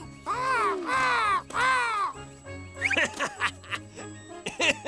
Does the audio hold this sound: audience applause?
no